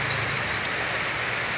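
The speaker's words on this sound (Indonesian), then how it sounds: "hujan" Heavy rain of high intensity at Tekung Pare, a dense, constant hiss of downpour filling the scene close and loud, with no voices.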